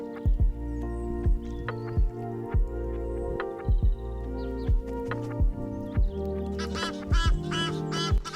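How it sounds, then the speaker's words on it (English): Egyptian geese in a territorial fight give repeated harsh honks and quacks in an irregular rhythm, with a burst of louder, shriller calls near the end; close and fairly loud, recorded by a trail camera. "Here we can see a territorial fight amongst the Egyptian geese."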